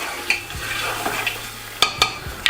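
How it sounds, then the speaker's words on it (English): Mutton stir-fries in a hot pan with ginger, garlic, green chili and tomatoes, a steady close sizzle broken by a few sharp scrapes and clacks of a spatula or spoon against the pan. "We want to mix and brown that mutton a little"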